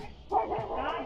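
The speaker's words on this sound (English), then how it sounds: "the dog charged towards the cop, barking." A family dog barks aggressively while charging toward a police officer, giving one sharp mid-range bark followed by whimpering yips, fairly close and loud.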